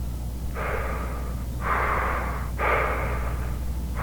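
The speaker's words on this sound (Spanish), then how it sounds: "Solo escuchaba una respiración, una inhalación suave y tenebrosa." Three slow, drawn-out breaths, soft and airy, each separated by a short pause, over a low steady hum.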